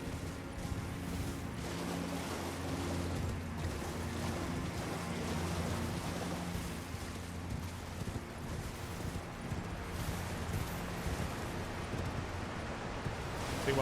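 Rushing waterfall in the action game Elden Ring Shadow of the Erdtree, a steady broadband roar of falling water with low game ambience underneath, constant throughout with no talk.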